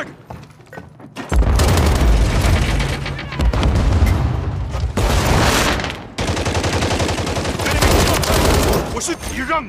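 Dense automatic gunfire and a heavy frag grenade blast in Call of Duty Modern Warfare, a Kill Confirmed match on the Departure map, loud and nearly continuous with a brief break midway.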